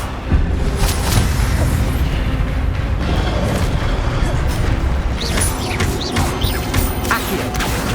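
Incendio fire spells burst in the Hogwarts Legacy video game, a dense run of crashing, booming blasts one after another over busy game noise.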